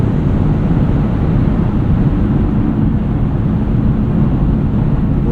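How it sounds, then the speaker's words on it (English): Wind noise inside a 2024 BMW 530i xDrive sedan cruising on the highway, a steady, loud low rushing roar with road hum, unbroken and without talk. "Little bit of wind noise."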